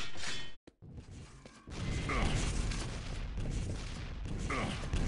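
Rocket launcher shots and explosions in a Quake deathmatch: a loud burst, a brief near-silent gap, then a dense run of booming blasts and fire that continues to the end.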